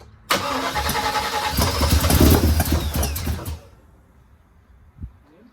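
A 1979 Chevrolet Malibu engine cranks and catches, roaring loudly for about three seconds before cutting out abruptly, followed by a faint thump near the end.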